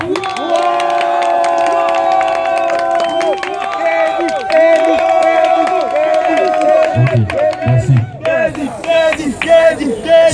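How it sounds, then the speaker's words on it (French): An audience at a youth artists' contest launch in Abobo cheers and claps for a performer, a steady crowd roar with bursts of applause under loud music throughout. "Kedi, applaudissez."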